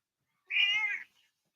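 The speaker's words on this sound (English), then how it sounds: "I have a very loud cat tonight, so bear with me." A house cat gives one loud, drawn-out meow lasting about half a second, close to the microphone, followed by a faint short trailing murmur, with no talk over it.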